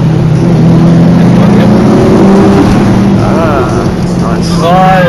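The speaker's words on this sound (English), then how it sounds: "You can pretty much rev it all the way in third." A car engine revs hard in third gear during a powerplay run, loud and close with a continuous droning roar and rising pitch, with cabin wind noise throughout.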